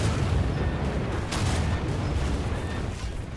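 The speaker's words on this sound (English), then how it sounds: "Okay, 4 guns firing." Heavy guns of the cruiser Prinz Eugen firing in the War Thunder naval battle game, a loud, sustained rumbling boom with a sharper blast near the middle over constant low roar.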